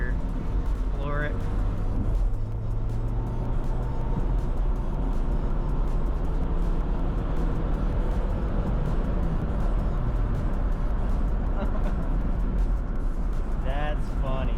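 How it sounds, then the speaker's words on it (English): A Honda Civic EK engine floored in third gear until VTEC engages, heard as a loud, steady sustained roar from inside the car throughout, with a brief rising tone near the start. "we're gonna finish the video off with some GoPro footage of hitting VTEC for the first time"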